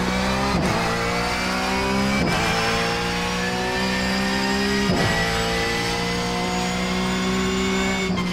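A Porsche GT3 race car in the iRacing sim revs hard and close, its engine rising through the gears in repeated climbing sweeps with sharp drops at each shift.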